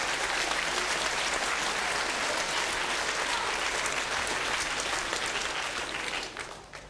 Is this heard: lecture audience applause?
yes